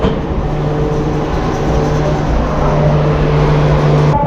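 A loud, steady rumble of a train arriving at Ratnagiri railway station, with a low droning hum running underneath throughout. No voices.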